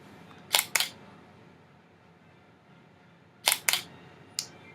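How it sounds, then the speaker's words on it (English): A DSLR camera shutter fired by an intervalometer for time-lapse shooting snaps in close, crisp double clicks, two pairs a few seconds apart and then a lone click, over a quiet room. "this intervalometer triggers the shutter, and it goes on until your memory card is full"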